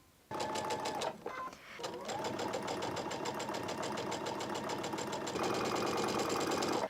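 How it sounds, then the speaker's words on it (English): A sewing machine chain-pieces half square triangle quilt blocks, running in a steady fast mechanical whir with a brief pause near the start, then continuous stitching close by with no talk. "So I'm just going to chain piece these"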